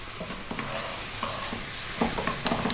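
Vegetables for fried rice stir-fry over high heat, a loud steady sizzle close by with repeated spatula scrapes and taps against the pan.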